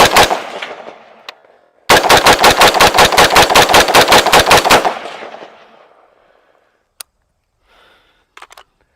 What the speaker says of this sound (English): Let's do a fast mag dump.